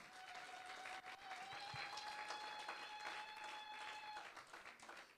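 A worship congregation in Lyon cheers and applauds for Jesus during a church service, with steady dense clapping and crowd noise lasting throughout, a sustained tone running alongside.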